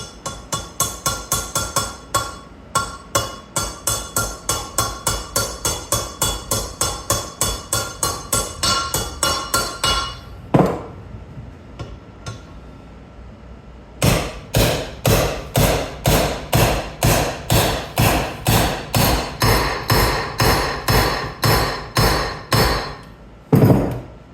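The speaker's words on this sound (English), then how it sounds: "I'm hitting it several times in case it went down a little crooked and one side touched down before the rest." A hammer strikes a metal part repeatedly in a fast, even rhythm of sharp ringing blows, pausing near the middle for a few isolated hits before resuming a steady run of strikes, close and loud.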